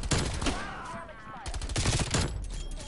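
Rapid gunfire from Call of Duty Cold War gameplay, loud and dense bursts of shots filling the moment with a brief lull in the middle, no talking over it.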